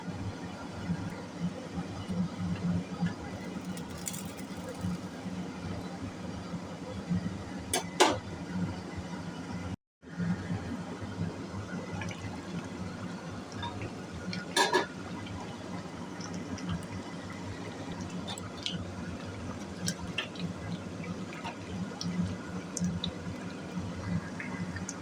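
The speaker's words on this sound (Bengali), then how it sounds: "এবারে আলুগুলো দিয়ে দিই। গরম জল ছিটে আসছে।" Potatoes go into a pot of boiling water for a curry, hot water splashing up. Continuous close bubbling and watery rush runs throughout, with a couple of sharper splashes and a brief break partway through.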